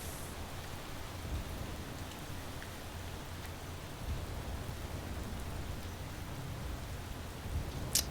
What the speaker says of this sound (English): enjoy the sound of dulcet rain on this